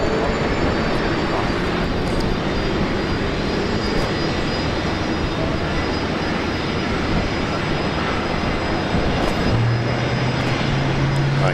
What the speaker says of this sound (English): I hear an engine start